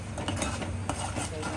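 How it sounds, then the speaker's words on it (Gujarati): Tomato paste and garlic being stirred in a pan, a steady scraping and clinking of utensil against metal with a faint sizzle underneath, close and continuous. "હવે આપણે હલાવી લઈશું એને"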